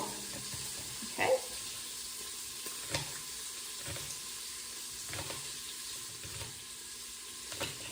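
Bacon sizzles in a pot for a one-pot Oktoberfest dish, a soft continuous frying hiss broken by several scraping stirs and knocks spaced across the stretch.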